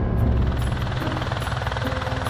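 A helicopter's rotor and engine roar loud and close throughout, a steady thudding whine with a rapid pulsing beat, heard before a jump from the helicopter over Hawaii.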